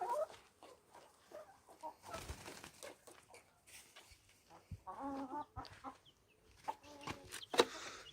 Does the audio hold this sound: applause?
no